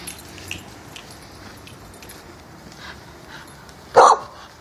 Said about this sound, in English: you with the barking and the noise